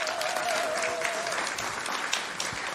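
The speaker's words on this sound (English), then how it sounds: "a big round of applause for this team" Audience at a food systems event presentation applauds a team, a sustained, even burst of clapping from a sizable crowd, with a faint tone during the first second.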